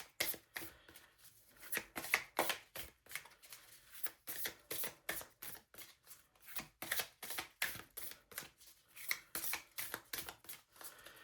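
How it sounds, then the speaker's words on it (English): Tarot cards shuffled by hand, a long run of crisp riffling bursts and soft slaps repeating in an uneven rhythm, close to the microphone and fairly quiet. "Yeah, I really think it's the way I shuffle my cards"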